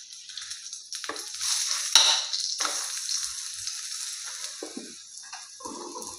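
An aloo paratha fries in oil on a pan over low gas flame, giving a steady close sizzle and crackle with occasional sharper spits and stirring noises, and no talk.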